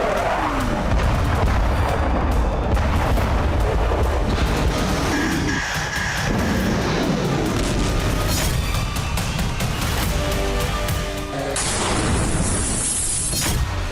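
Explosions and artillery fire in war footage from Ukraine, dense loud booms and crashing blasts layered continuously throughout, with no speech.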